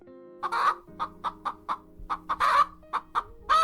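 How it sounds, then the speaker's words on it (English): A chicken clucks in a quick, uneven run of short, close clucks, about a dozen in under four seconds, with a few louder bursts near the end and no voices. "Chicken."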